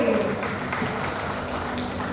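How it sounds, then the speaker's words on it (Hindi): Applause at an entrepreneur and excellence award ceremony in Jabalpur in 2021: a short, dense burst of clapping from the audience, with a voice faintly underneath. "जोरदार तालियां हो जाए।"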